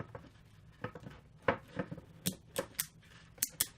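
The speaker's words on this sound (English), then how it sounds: "clicking it together, it cinches it and makes it tight." A cable tie ratchets tight in a series of sharp, close clicks, about a dozen in irregular quick succession.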